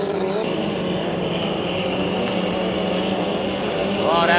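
A racing hydroplane with a 2.5L engine roars loud and steady through the apex of a turn on a circuit at Gananoque, the engine note sustained with a slight rise at the end, with a commentator talking over it.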